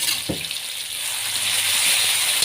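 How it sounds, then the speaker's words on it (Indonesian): A ground spice paste sizzles in a frying pan as it is sautéed until crisp for Betawi-style tofu and tempeh stew. The hiss is loud and continuous, with a brief clatter of stirring early on. "Kita tumis sampai dia matang, sampai dia garing ya bun ya."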